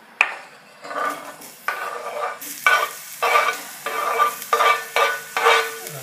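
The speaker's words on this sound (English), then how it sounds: "We've got 2 to 3 tablespoons of oil. We're going to add the onion." Onion frying in oil in a pan while being stirred, with repeated scraping strokes of a utensil every second or so, close and fairly loud.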